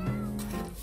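A kitten gives a short, tonal meow close by in a home, with a faint background murmur around it.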